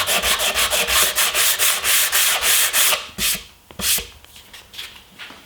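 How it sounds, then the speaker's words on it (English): Wood being sanded by hand with 120 grit sandpaper on a sanding block, building a plywood desk cabinet: steady rhythmic back-and-forth rasping strokes, close and loud, slowing into a few separate rubs at the end. "I'm going to use 120 grit sandpaper with a sanding block"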